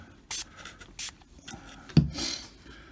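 Two short hissing bursts of spray onto the top wing of a Microaces DH2 scale model, each about a second apart, followed by a longer hiss mixed with a faint knock and light handling noise.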